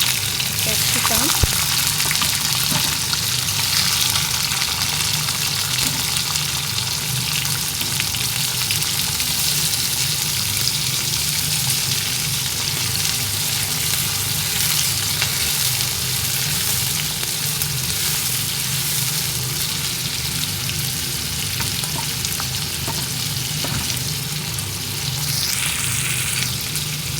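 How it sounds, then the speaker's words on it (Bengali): Mixed vegetables with peas and capsicum are stirred in hot frying oil, giving a steady loud sizzle throughout with occasional scraping of the stirring utensil. "সবজিটা একটু তেলের মধ্যে নাড়াচাড়া করতে হবে।"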